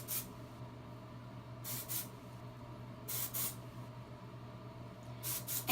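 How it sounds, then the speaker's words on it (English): Three short bursts of dry shampoo aerosol spray hissing close by into hair roots, each about half a second, separated by quiet pauses over a low steady hum. "I'm just going to spray it kind of into the roots"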